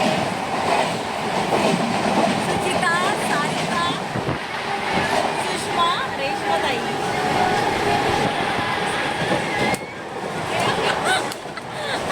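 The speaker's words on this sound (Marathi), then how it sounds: "आम्ही ट्रेनमध्ये बसलेलो आहे" A moving local train in Mumbai heading toward Ghatkopar, clattering steadily on the rails from inside the carriage, with continuous loud rumble and rhythmic clicks, under occasional voices.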